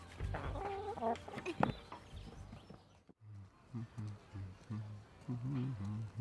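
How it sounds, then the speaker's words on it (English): Three chickens cluck close by behind wire in uneven bursts, with low throaty calls and occasional louder squawks, mostly alone. "3 chickens clucking behind the wire"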